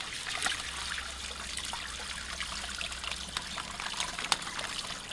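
Liquid from a smoked tuna preparation pours into an outdoor drain, a faint, steady trickle with small splashes and no talking.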